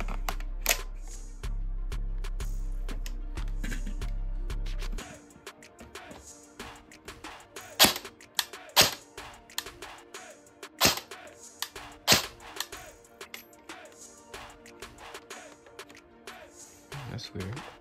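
Airsoft gun firing shots through a chronograph while gear ratios are compared: several sharp, loud cracks spaced irregularly after a steady low hum at the start, with handling noise in between.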